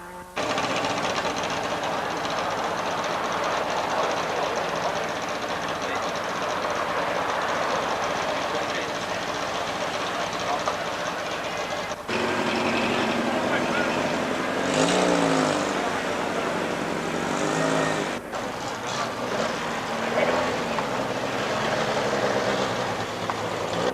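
A rally car, number 11, races along a forest stage at the 1988 Wicklow Rally in Ireland, its engine roaring loud and steady for a long stretch, with brief pitch shifts as it changes gear and passes.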